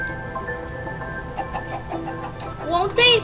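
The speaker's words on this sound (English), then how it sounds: "Don't hit the chicken." A chicken in the Minecraft video game clucks in short squawks near the end, over game sounds and people talking.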